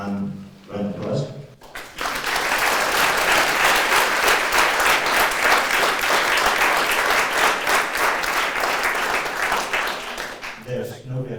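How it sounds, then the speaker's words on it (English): A conference audience breaks into loud, sustained applause that lasts several seconds before fading out, with a voice speaking briefly just before and again as the clapping ends. "Round of applause"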